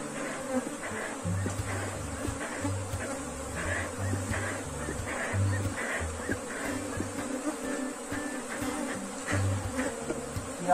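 Honey bees swarm and buzz around an open beehive, a dense, steady drone with individual wings whining past up close throughout, while frames and wax are handled nearby.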